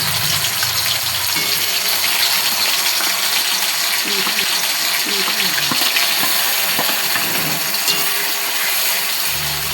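Onion, ginger and garlic paste fries in hot oil with a loud, dense, steady sizzle and hiss throughout, with occasional stirring scrapes and no speech.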